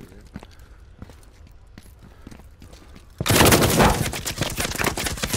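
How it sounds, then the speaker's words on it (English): Gunfire in a video game shooter: a burst of loud, dense shots erupts partway through after quieter scattered clicks and footstep-like taps, continuing to the end. "He's shooting."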